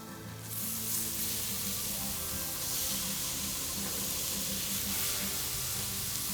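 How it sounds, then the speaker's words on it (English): Pineapple caramelizing on a hot flat-top griddle gives a steady, loud sizzle and hiss that runs the whole time without a break, with no voices over it. "Caramelize some pineapple."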